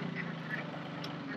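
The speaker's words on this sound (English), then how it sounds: "the ducks right now are in this pen" Ducks quack in a pen on a small farm: several short nasal quacks over a steady low background murmur, close and moderately loud, with no clear talk.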